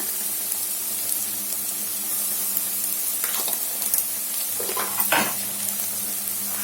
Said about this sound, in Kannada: ಈರುಳ್ಳಿ ಸ್ವಲ್ಪ ಫ್ರೈ ಆದ ನಂತರ ಶುಂಠಿ ಬೆಳ್ಳುಳ್ಳಿ ಹಸಿಮೆಣಕಾಯಿ ಪೇಸ್ಟ್ ಅನ್ನ ಹಾಕೊಳ್ಳೋಣ.